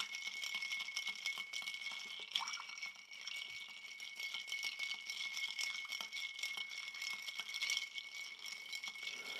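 A lychee martini is shaken with ice in a cocktail shaker, a continuous close rattle of ice cubes knocking against metal that holds steady and uninterrupted throughout, with no talking.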